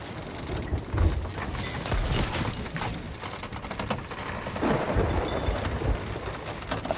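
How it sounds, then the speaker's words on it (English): A thunderstorm in a pirate ship video game rumbles with rolling thunder and rain, punctuated by sharp cracks and crashes over a steady wash of storm noise. "you know, we're in a storm."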